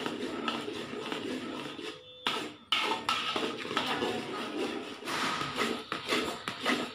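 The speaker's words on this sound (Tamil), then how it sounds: "இப்போ இன்னும் கொஞ்சம் நெய் சேர்த்து கிண்ட போகிறேன்." A spoon scrapes and knocks against a pan as thickening badam halwa with ghee is stirred, in an irregular run of close, soft scrapes and taps with a few sharper clacks.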